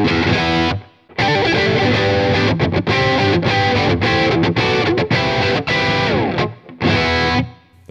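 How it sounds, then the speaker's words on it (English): Schecter Nick Johnston electric guitar played through distortion, dense sustained chords and riffs continuing loud almost without pause, with two brief gaps where the notes cut off before the playing resumes. "I prefer this pickup a lot with some distortion as opposed to just clean."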